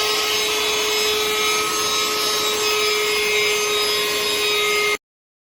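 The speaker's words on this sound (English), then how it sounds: "you're going to hear the actual audio of me vacuuming coming up in about 5 seconds, which it is quite loud" An eufy HomeVac H11 cordless handheld vacuum cleaner runs at a loud, steady whine with a constant motor tone for about five seconds, then cuts off abruptly.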